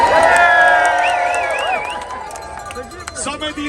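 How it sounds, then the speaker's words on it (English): A crowd at a cycling event fan park in George Square cheers and shouts, a loud mix of whoops and voices that swells at first and then thins out, with scattered calls near the end. "Some idiots outside of the park started cheering there."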